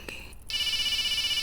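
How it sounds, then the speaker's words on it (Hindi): Phone ringing indoors: a brief electronic chirp, then a loud, steady warbling ringtone that starts abruptly and continues close by without any voices. "आपका फोन बज रहा है।"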